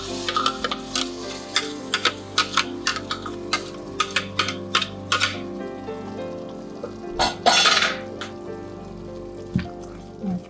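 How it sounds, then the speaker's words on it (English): Vegetable mixture being stirred into onions and oil in a pan while cooking beef samosa filling, with a steady sizzle under a run of sharp, regular spoon taps and scrapes, then a brief louder burst of hissing. "After adding this, I just go ahead and mix."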